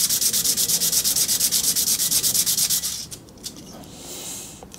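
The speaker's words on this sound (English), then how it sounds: "So I'll get these polished as well, so it'll look nice against the burgundy tank." Metal parts are buffed with a power polisher, making a loud, steady, rhythmic rubbing whir for about three seconds before it stops, leaving a few faint scrapes and low background noise.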